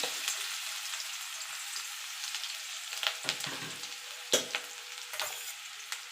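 Minced garlic and ginger frying in reduced oil in a kadai for chilli chicken, a steady close sizzle with occasional sharper pops and spatters, no talking.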